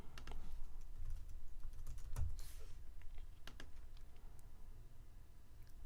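A domain name is typed on a computer keyboard, a run of quick light key clicks with a few sharper taps, near and faint over a low steady room hum.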